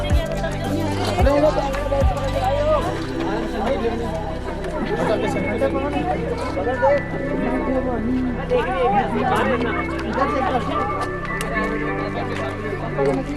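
Dense crowd chatter fills the hilltop at Dalai Hills in Mussoorie, with many overlapping voices nearby and a few closer speakers rising above the steady murmur throughout.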